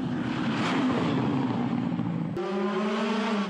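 A Ford Fiesta rally car at the 2016 Rallye de Wallonie roars past with a loud, sustained engine note, then drops to a lower steady tone after an abrupt change partway through.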